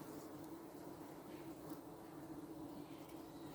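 Honeybees returning to their hive loaded with pollen make a steady, dense buzzing close by at the entrance. The drone holds evenly throughout with no talking.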